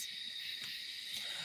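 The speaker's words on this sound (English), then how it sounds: "all those crickets and stuff" Steady high insect-like chirring fills the night woods, a continuous buzzing band with faint hoot-like calls underneath, moderately quiet and unbroken throughout with no talk.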